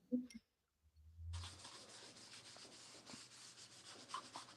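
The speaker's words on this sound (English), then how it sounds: "by rubbing this in with the heel of my hand, I end up with a very thin surface on here" Paint is rubbed into a canvas with the heel of a hand: a quiet, close, continuous dry rubbing that starts after a brief silence and keeps going steadily.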